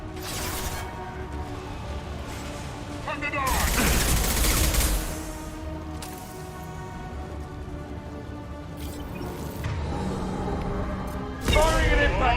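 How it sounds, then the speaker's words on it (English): Impact shot gunfire in Mass Effect 2, with loud bursts of weapon fire and booming impacts set against a droning combat backdrop, recurring several times across the clip alongside in-game voices. "Firing an impact shot."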